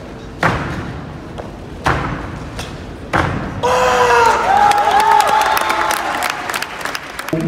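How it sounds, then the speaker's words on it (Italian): Three heavy foot stamps thud on a padded tatami floor during karate at roughly even intervals, then a burst of crowd noise and cheering with clapping and voices. "il battito continuo del piede in terra"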